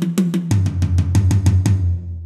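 A 16th-note drum fill moving around the kit from snare to rack tom to floor tom, a quick even run of about a dozen close, loud strokes that drops in pitch as it goes and ends on ringing floor-tom hits.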